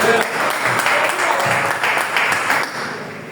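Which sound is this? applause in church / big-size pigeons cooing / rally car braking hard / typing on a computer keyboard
applause in church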